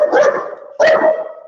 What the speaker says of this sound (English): There's a dog right next to me.